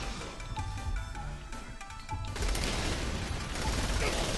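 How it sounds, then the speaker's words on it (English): Enemy gunfire in Saints Row The Third, a steady rattle of shots with mechanical clatter that thickens into a heavier, continuous barrage, moderately loud with game noise around it. "He's shooting at me."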